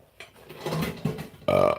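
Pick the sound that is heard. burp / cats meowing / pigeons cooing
burp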